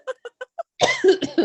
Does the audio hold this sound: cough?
yes